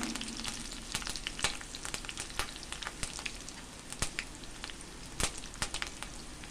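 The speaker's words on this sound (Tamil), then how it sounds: "கருவேப்பிலை சேர்த்துக்கலாம். கொஞ்சம் வதங்கட்டுங்க." Curry leaves sautéing in a pan for a pepper fry, crackling and sizzling continuously with sharp pops and spatters, near and busy, with no voices.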